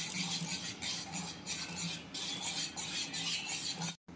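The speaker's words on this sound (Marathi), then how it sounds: "ते बघा अशा प्रकारे गव्हाचं पीठ आणि गूळ एकत्र फेटून घ्यायचं आहे" A whisk stirs wheat flour and jaggery batter in a bowl for gulgule, a continuous close scraping and swishing that stops abruptly near the end.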